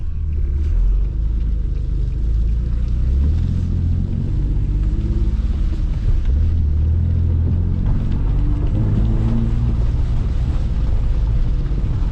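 An Infiniti G37 with a VVEL module problem drives along, heard from inside as a loud, steady low engine and road rumble with shifting tones and no talk.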